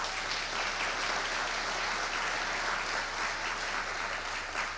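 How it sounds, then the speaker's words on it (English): Conference audience at a Long Island offshore wind supply chain event applauding, an even, moderately distant wash of many hands clapping that holds steady without speech. "Roger is here, so let's give him a round of applause."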